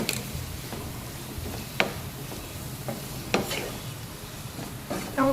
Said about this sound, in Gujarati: બધું મિક્સ કરી દેવાનું.